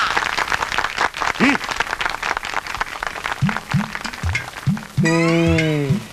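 Applause greets a new president being welcomed with a flower garland at a Chhattisgarhi comedy drama gathering, a burst of clapping mixed with voices and chatter, then a louder sustained tone near the end.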